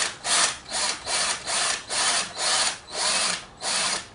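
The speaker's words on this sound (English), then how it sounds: "we'll put the point of the drill bit right where we want it" A drill grinds into wood in about eight even pulses, each burst rising and falling, close and fairly loud with no voices.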